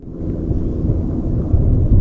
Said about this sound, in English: We're hearing this thundering.